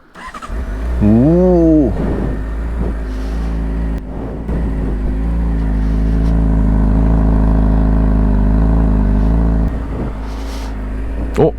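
A 2024 Honda CBR600RR motorcycle engine on a test ride, loud and close: a rising then falling rev followed by a long steady idle-to-cruise drone, with a man's brief exclamation early on.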